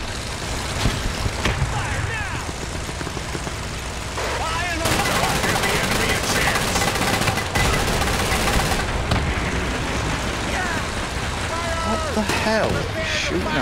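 Dense gunfire and machine-gun bursts in a Men of War II cooperative battle, loud and nearly continuous, with sustained rattling fire over rumbling vehicle engines and shouted unit voice lines.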